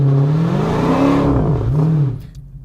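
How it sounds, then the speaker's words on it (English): A Dodge Challenger SRT Hellcat revs hard and loud while warming its tires, the engine note climbing, dipping and rising again before cutting off abruptly near the end. "got to warm the tires up"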